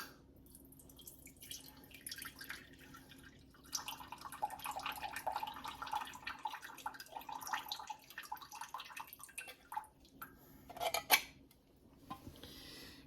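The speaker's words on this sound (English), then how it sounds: "Mandarin oranges, I'm going to drain the juice off." Canned mandarin oranges being drained of their juice in a kitchen, with a steady trickle of liquid over a sink and intermittent clinks of a can and utensils, moderately near, no talking.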